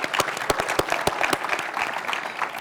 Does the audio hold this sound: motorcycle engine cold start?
no